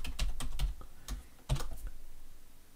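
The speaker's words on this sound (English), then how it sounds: "I'm just going to type double.parse" Keys clatter on a computer keyboard while someone enters code, a quick burst of close clicks and then a couple of separate heavier strokes, with no speech.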